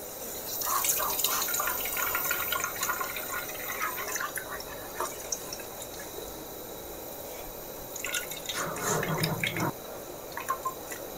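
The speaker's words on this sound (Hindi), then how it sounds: "इस तरह से हम इसका पानी गार लेंगे।" Whey water from freshly split milk curds (chhena) being strained off for sweet-making, heard as steady dripping and trickling liquid with a louder pouring splash near the end, no voices.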